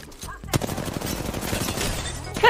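Automatic gunfire from a weapon in Apex Legends, a rapid burst of shots under a busy game mix, with a voice talking over it.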